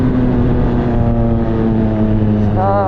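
A CFMOTO 675SR-R motorcycle engine runs on a dyno, a loud, steady, close drone that holds even and then climbs in pitch as the throttle opens near the end. No one speaks.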